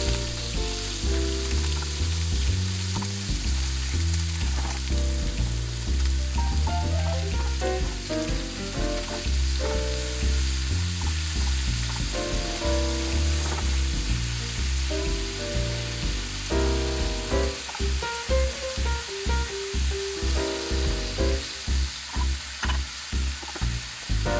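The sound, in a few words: pork searing in a frying pan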